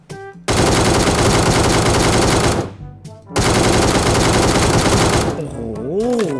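Automatic fire from the ACE32 rifle in PUBG Mobile, two loud sustained bursts of rapid shots split by a brief pause, followed by a softer electronic whoosh as the firing ends.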